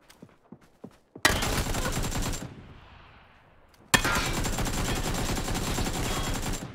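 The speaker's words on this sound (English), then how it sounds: "Yep, they're both shooting at me." Enemy gunfire in PUBG: a few scattered shots first, then two long, loud automatic bursts, close and sustained, with a brief quieter gap between them.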